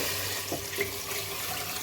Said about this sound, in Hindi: अब इसमें मैं 5 प्याली पानी के ऐड करूंगी और इसकी यखनी रेडी कर लूंगी